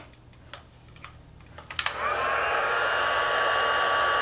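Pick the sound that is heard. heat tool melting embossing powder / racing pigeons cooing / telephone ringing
heat tool melting embossing powder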